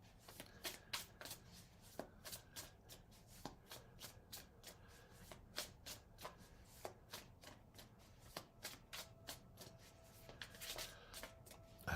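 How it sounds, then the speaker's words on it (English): Tarot cards are shuffled by hand in a quiet room, a rapid series of crisp riffling bursts in an uneven rhythm, close and distinct, with no talking. "I need to focus when I shuffle"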